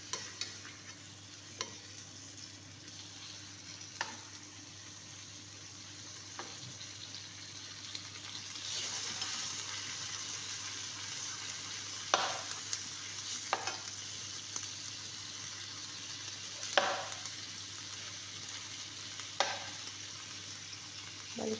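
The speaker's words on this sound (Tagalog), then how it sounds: "Gamit po natin ng pan is non-sticky para po maganda yung kanyang pagka-prito" Chicken pieces fry in a non-stick pan with a soft, steady sizzle, punctuated by occasional stirring and turning clicks, quiet and close with no talk.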